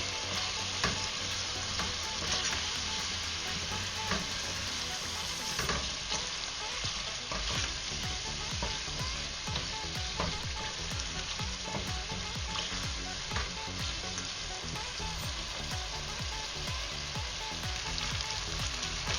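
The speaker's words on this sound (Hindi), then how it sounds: "अभी हम चिकन को जो है मसालों के साथ तकरीबन 2-3 मिनट भूनेंगे" Chicken pieces fry with spices in a pot over a medium flame, giving a steady, loud, dense sizzle with faint scraping stirs throughout and no talking.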